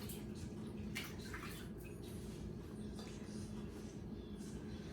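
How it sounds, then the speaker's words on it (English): Running water from a kitchen tap pours steadily while hands are washed, a soft continuous splashing with a few brief brighter splashes, quiet and fairly close, with no talking. "Wash my hands."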